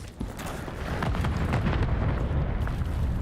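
A frag grenade goes off in a Call of Duty League match as a loud boom with sustained rumbling debris. Crackling game noise runs steadily under it for several seconds.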